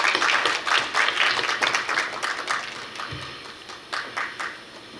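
Audience applause welcomes a student at a university graduate school entrance ceremony: a sustained burst of many hands clapping that gradually thins and fades, with a few scattered claps trailing off near the end.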